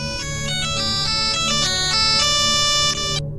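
A mobile phone rings with a bright, repeating electronic melody. It sounds loud and close, and it plays steadily for a few seconds before cutting off.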